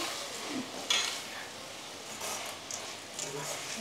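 Onions sauté in a pan for a crab gravy, giving a steady close hiss with occasional stirring scrapes and a metallic tap, while a voice murmurs faintly beneath.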